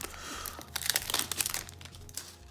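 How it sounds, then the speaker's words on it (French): Close crinkling and tearing of a foil trading card booster pack wrapper, a quick flurry of sharp crackles lasting a couple of seconds with no talking. "Veux-tu, s'il te plaît, te déballer, petit booster?"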